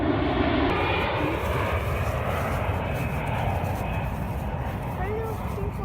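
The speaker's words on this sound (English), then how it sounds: "I missed the plane. Trying to get the plane." An airplane's engine drones steadily throughout at close range, a loud continuous rumble overhead with no break.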